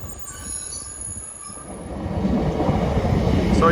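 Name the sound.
train braking and stopping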